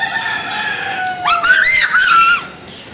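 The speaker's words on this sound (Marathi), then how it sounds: "कोंबडा आलाय" A rooster gives one long, loud crow lasting about a second, rising and then tailing off, over a steady background hiss with nobody talking.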